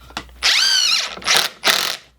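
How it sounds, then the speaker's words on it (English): A power drill pre-drills screw holes in 2x4 boards, the motor whining up into a long high-pitched run, then two shorter bursts with brief pauses between, close and loud with no talking. "It's also a good idea to pre-drill these holes to minimize any cracking."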